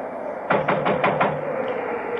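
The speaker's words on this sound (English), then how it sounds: "I'll knock." Five firm knocks on a door sound in a quick, even run, with a fainter tap after them, over steady background noise in an old radio drama.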